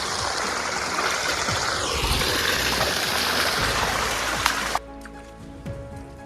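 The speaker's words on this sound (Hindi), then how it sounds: "पानी झाड़ियों से पता नहीं कहां से आ रहा है और ये बहते हुए ऐसे जा रहा है" Water runs out of bushes in a jungle. A steady rushing, trickling wash fills most of the stretch, then drops abruptly to a quieter background with scattered small sounds near the end.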